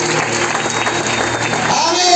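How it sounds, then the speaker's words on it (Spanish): A church congregation applauds during a sermon, dense steady clapping filling the room at close range, with some voices mixed in. "¿Cuánto le doy un aplauso a eso?"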